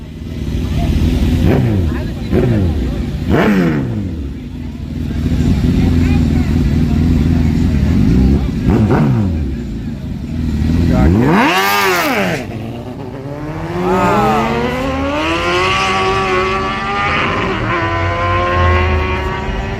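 Drag racing cars on a hood track rev and accelerate hard in several loud, rising engine pulls, with gear changes and cars sweeping past up close while spectators talk and shout throughout.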